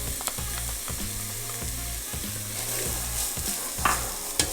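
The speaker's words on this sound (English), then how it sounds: "I'm gonna saute this a bit." Onions sauteing in hot avocado oil in a pan for meatless collard greens, a steady close crackling sizzle with occasional stirring scrapes and clinks, no voices.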